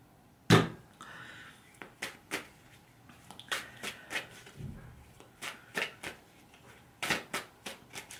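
Tarot cards shuffled in bursts, quiet close riffles and slaps repeating irregularly with short pauses between them, with no talking.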